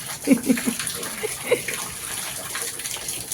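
Heavy rain pours during a windstorm in a village, a dense steady rushing wash with a few close splashing thumps near the start.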